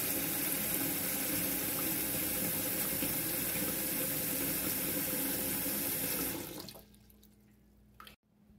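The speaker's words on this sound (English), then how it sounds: "We'll stop when we get to that first line." Tap water pours steadily into the pot of a Presto electric pressure canner, a loud continuous rushing stream that stops abruptly, followed by a short clunk.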